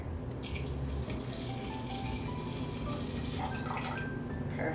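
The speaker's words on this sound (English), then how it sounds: "we're gonna pour the water" Water runs from a tap into a bowl of rice in a kitchen, a steady splashing rush with no voices.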